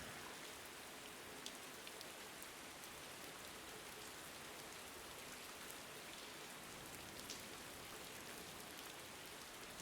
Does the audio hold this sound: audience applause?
no